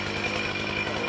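A chainsaw roars steadily and close up while cutting through a large branch of a golden-flowered tram tree, a continuous buzzing drone with no pauses and no voices.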